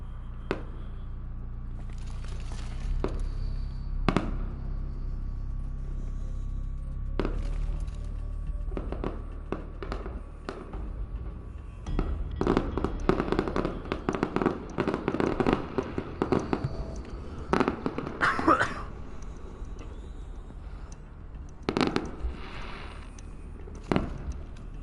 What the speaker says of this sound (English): I can see the fireworks from outside my window.